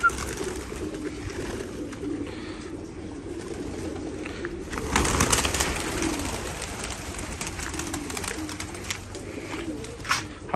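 A pigeon caught on a rooftop and kept indoors in a flat coos softly amid steady room noise, with a louder rustling stretch midway and no clear talking.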